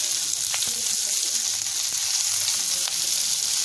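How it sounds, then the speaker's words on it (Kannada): Green chillies, curry leaves and coriander stems fry in oil for chicken masala, making a steady close hiss with faint stirring clicks. "ಎಲ್ಲವನ್ನು ಎಣ್ಣೆಯಲ್ಲಿ ಸ್ವಲ್ಪ ಹೊತ್ತು ಬಾಡಿಸ್ಕೊಳ್ಬೇಕು."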